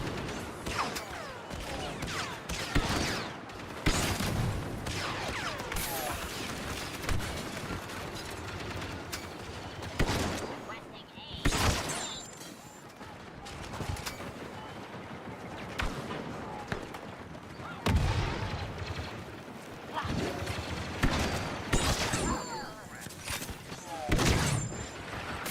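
Weapon fire in Star Wars Battlefront II, heard as bursts of rapid shots at irregular intervals mixed with mechanical clatter and battle noise, with a player talking at points.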